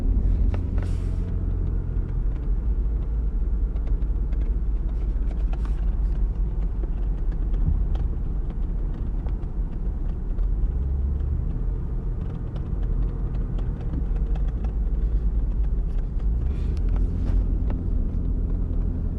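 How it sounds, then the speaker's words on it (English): A car drives past a field of pine trees, giving a steady low road rumble and engine hum that continues unbroken, with occasional faint bumps. "Alright, so I'm driving"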